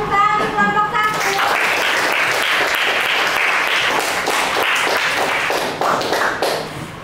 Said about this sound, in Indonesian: Oke, tepuk tangan di kelompok 1.